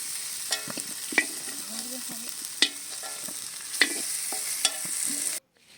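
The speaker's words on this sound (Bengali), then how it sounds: "এখানে চিকেনের জন্য আলু ভাজা হচ্ছে আলুগুলো প্রথমে ভেজে নিয়েছে" Potatoes frying in oil in a pan, a steady close sizzle broken by occasional sharp scrapes and taps of a spatula, cutting off abruptly at the end.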